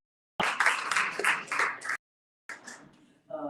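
Short bursts of clapping from a small meetup audience, broken by a silent gap, with voices speaking around the claps.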